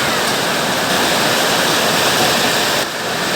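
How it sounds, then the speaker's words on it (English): Floodwater after heavy rain rushing down a town street, a loud, continuous roar of flowing water close by that holds steady throughout. "we got a river going right in Front Street."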